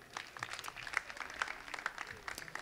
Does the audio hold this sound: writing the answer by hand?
no